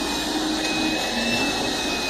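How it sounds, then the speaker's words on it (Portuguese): A vacuum cleaner runs as a blower in a steady, close roar with a thin high whine held throughout. The drone stays unbroken from start to finish, with no voices. "É um aspirador, pô."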